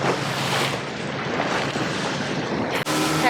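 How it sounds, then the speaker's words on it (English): Big ocean waves heard from a small boat off the Italian coast, a loud, continuous rush of water and spray mixed with wind buffeting the microphone, with a brief dropout near the end. "Oh my god, there's big waves now."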